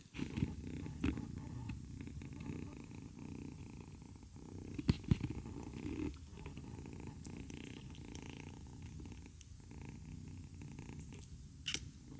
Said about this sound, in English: Right now she's purring.